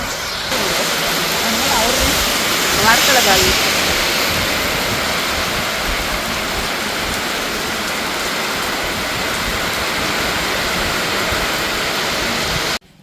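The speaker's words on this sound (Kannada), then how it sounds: "ನಮ್ಮೂರಲ್ಲೇ ಮಳೆ ಬರೋದಕ್ಕೆ ಶುರುವಾಯಿತು" Steady outdoor rain pours down with a loud, dense, continuous hiss for about twelve seconds, briefly joined by a faint voice early on before the sound cuts off at the end.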